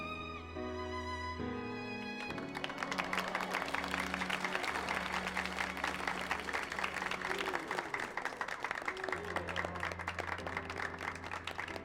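A crowd in a Final Fantasy XIV celebration cutscene breaks into sustained, dense applause over a swelling orchestral score that carries on beneath the clapping.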